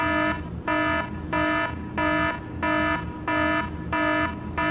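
A fire alarm sounds in a loud, steady pattern of repeated harmonic tone bursts, about seven evenly spaced beeps with short gaps between them, with no voices over it.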